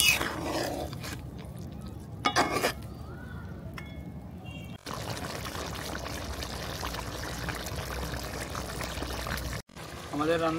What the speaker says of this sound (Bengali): এবার আমরা জল দিয়ে দিব পরিমাণ মতন